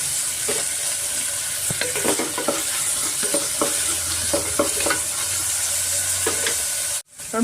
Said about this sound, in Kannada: ಈರುಳ್ಳಿ ಚೆನ್ನಾಗಿ ಫ್ರೈ ಆಗಬೇಕಾಗುತ್ತೆ